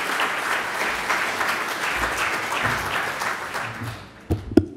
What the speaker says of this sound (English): Round of applause, please, for Jeff Kostuik.